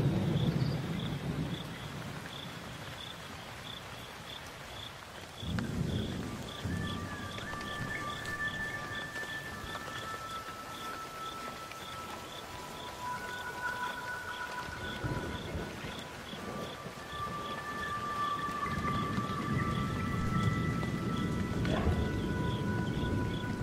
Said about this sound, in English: The effects of these storms are felt across the Okavango and beyond.